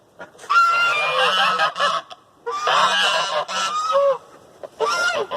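Loud, raucous geese honking in overlapping bursts, a flock calling close by with brief pauses between volleys.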